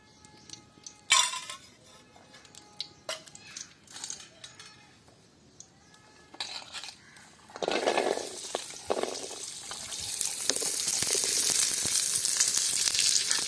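Small onions hit hot oil for a village-style fish curry after a few glassy clinks, and a loud, steady sizzle swells and holds close up to the end.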